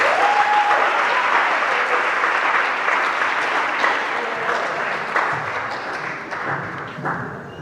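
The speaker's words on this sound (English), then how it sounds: "I think these speakers deserve a round of applause." A debate audience breaks into sustained applause, a dense wash of clapping that holds loud for several seconds and then gradually thins and fades toward the end.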